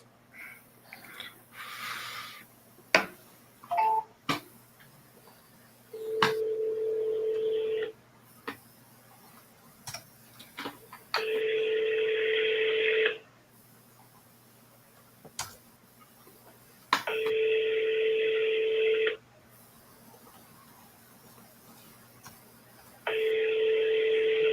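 An outgoing telephone call produces a few brief dialing clicks and tones, then a repeating ringback tone in evenly spaced long rings with quiet gaps between them, heard clearly through the phone.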